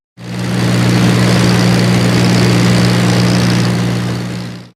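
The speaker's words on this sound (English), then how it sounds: "I flew in a propeller plane over the Nazca Lines" Propeller plane engine droning steadily in flight over the Nazca Lines in Peru, a loud continuous low hum with strong tonal bands that holds constant throughout with no talking.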